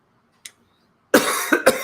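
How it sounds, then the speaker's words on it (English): A short faint sniff, then a pause before a burst of harsh coughs, two or three sharp hacks close to the microphone. "Well, sorry for my cough here."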